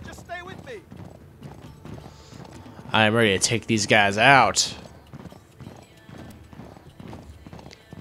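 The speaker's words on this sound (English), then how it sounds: "Riding on a horse." Horse hooves clip-clop steadily through the Uncharted 3 video game scene, a rhythmic beat running beneath a burst of male speech in the middle, with a brief whinny near the start.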